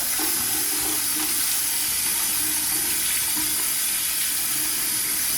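A kitchen tap runs continuously into a sink while garage sale items are washed, making a loud, even rush of water with no voices.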